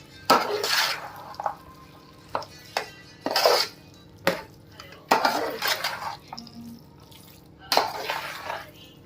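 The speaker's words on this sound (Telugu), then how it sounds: "బాగా మిక్స్ చేసుకోండి ఫ్రెండ్స్, మిక్స్ అయ్యేటట్టు" A spoon scrapes and knocks against a pan while bread halwa is stirred, giving irregular bursts of clattering and soft wet scraping with short pauses between.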